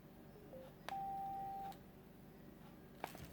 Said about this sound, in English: you should have been able to hear the little beep when it started up